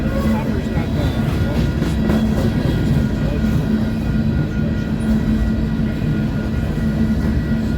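Freight train hopper cars roll past at close range with a loud, continuous rumble and rattle that stays steady throughout, with people talking over it at times.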